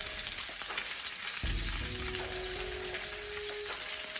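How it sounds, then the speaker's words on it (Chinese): Fish pieces shallow-frying in a home pan of oil give a continuous close sizzle, with a sudden louder crackle and clatter about a third of the way in as the pieces are moved. "大约煎至2分钟左右，把所有的鱼块煎制成视频中这样金黄金黄的"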